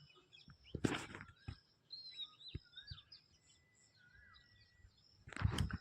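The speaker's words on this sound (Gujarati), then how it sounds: "અને પક્ષીઓનો કલરવ સાંભળો" Birds chirp and whistle with short, thin calls in a calm farm field at dusk, faint and scattered against quiet background with a couple of brief louder rustles or knocks.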